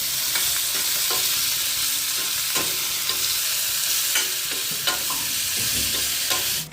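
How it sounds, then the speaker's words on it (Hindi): Capsicum and pointed gourd fry in hot oil, a loud, constant close sizzle with occasional clicks and scrapes as the vegetables are stirred in the pan. "इसी तेल में सबसे पहले तो शिमला मिर्च और परवल को फ्राई कर देते हैं"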